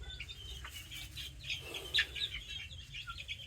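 Chickens cluck and chirp at feeding time, soft overlapping calls over a low steady rumble, with one brief louder squawk partway through and no talking.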